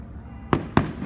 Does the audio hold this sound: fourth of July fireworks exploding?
yes